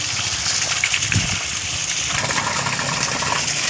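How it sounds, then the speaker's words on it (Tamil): Water gushes and splashes steadily as black nightshade leaves are rinsed and swished around, a constant wet rush with no voices. "தண்ணியில் நல்லா அலசிக்கலாம்."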